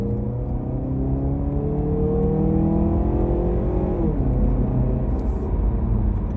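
A Mazda CX-30 engine drones and rises in pitch as it accelerates under moderate throttle, shifting once midway and climbing again, heard from inside the vehicle.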